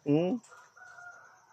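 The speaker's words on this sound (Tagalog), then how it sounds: "Manok. Manok." A rooster lets out a short, loud crow close by, followed by a faint high tone and quiet background hum.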